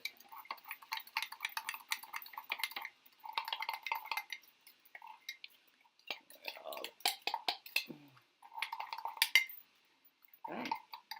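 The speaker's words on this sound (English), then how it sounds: "We stir till we no longer see any of the egg yolk." Eggs are stirred in a bowl, the utensil clinking and scraping against its sides in repeated bursts separated by short pauses, close and fairly faint.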